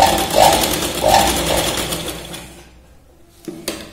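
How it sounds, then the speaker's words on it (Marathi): Sewing machine stitching a blouse shoulder seam, running loud and steady in close range for over two seconds before stopping, followed by a couple of sharp handling clicks. "शोल्डरला 2 ते 3 वेळा आपण शिलाई लावतो"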